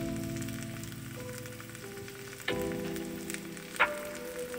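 Food frying in butter in a home kitchen pan, a steady soft sizzle and crackle running throughout at close range, with a couple of brief utensil knocks partway through.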